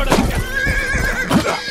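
A horse in the medieval video game Rustler neighs loudly up close, a long wavering whinny, with snorts and hoof clatter around it.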